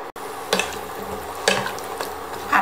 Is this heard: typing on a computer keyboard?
no